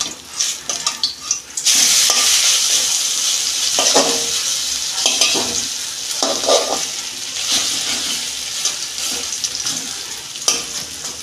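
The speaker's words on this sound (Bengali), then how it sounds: "দেখুন বন্ধুরা আমি বড়াগুলো উল্টে দিচ্ছি," Vegetable fritters fry in hot oil in a pan, a loud continuous sizzle broken by scraping and soft clinks as they are flipped, close up with no talking.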